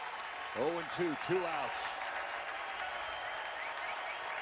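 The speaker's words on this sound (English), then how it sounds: "And I think it's about to get loud. Crowd coming to its feet." Crowd at a college baseball game, Texas versus Houston in a 2014 Super Regional, rising into a sustained roar of cheering and applause, with an announcer's voice calling the count over it near the start.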